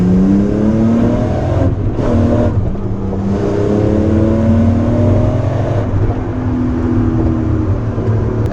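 A BMW E30 car pulls hard in third gear, its engine note climbing loudly and continuously with rising harmonics, heard from inside the car with a brief dip in the middle.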